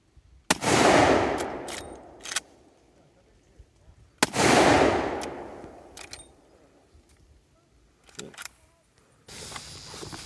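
Rossi 45-70 lever-action rifle fired at a metal target, two loud booming shots several seconds apart with long rolling echoes, then metallic clicks of the action and voices talking between shots.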